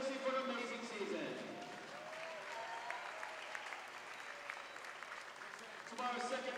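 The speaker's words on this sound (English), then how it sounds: "let's have another round of applause for the Wildcats of Johnson & Wales University for an amazing season" A volleyball crowd in a university gym gives a sustained round of applause for the Johnson & Wales Wildcats, steady and diffuse, with an announcer's voice heard over it at the start and end.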